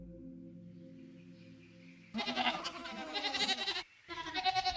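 Goats bleat in a grassy field, a burst of several overlapping wavering cries that starts suddenly after a low steady hum, breaks off for a moment, then resumes, close and fairly loud.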